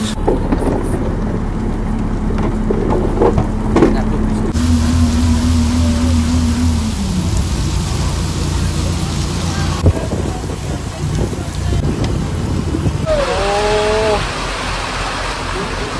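Heavy rain pours onto a boat in the Sundarbans with a loud, continuous roar. Engine hum and a few tonal whines sound beneath it.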